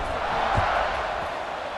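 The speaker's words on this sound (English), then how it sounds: "They're set to kick it off, and this crowd now ready to get behind them" Video game football stadium crowd before kickoff, a continuous broad roar of cheering spectators holding steady, moderately loud, with one soft thump near the start.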